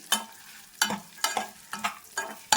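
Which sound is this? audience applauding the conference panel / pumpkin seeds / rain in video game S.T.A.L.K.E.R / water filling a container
pumpkin seeds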